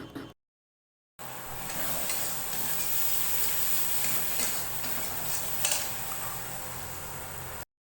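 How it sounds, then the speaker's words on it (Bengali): A spice paste for a rohu fish curry with sour yogurt is stirred and fried in a kadai. A steady, close sizzle with scraping carries on for about seven seconds after a brief silence at the start. "মশলাটাকে ভালো করে নাড়িয়ে নিচ্ছিলাম যতক্ষণ না পর্যন্ত ভালোভাবে কষে যায়"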